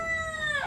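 Chickens in a backyard breeder coop give a short run of clucking and crowing-like calls, close and fairly loud, with rising tonal notes over a faint rustle.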